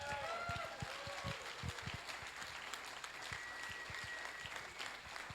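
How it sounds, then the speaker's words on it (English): Steady applause from a TEDx event audience fills the space, a dense, continuous clapping with a few louder claps standing out, moderately distant. "keep the applause going"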